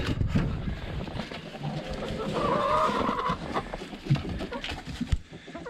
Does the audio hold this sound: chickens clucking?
yes